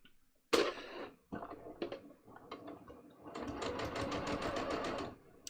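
A sewing machine stitches pants in short bursts, then settles into a steady run of rapid mechanical clicking, close and clear with no talk.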